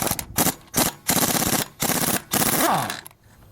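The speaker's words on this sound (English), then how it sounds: "Guess it's time to get out the big guns. Ingersoll Rand." An Ingersoll Rand impact wrench hammers at stubborn axle nuts on a Dana 44 axle in loud, close bursts of rattling blows, about five bursts separated by short pauses, the last one winding down.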